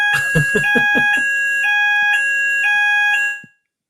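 A building fire alarm in London sounds loudly and close, a sustained electronic tone pulsing in repeated bursts after a few rapid beeps, then cutting off abruptly into silence.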